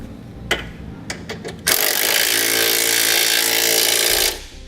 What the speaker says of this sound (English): The smaller bolts in the front you'll tighten down with a 13mm socket.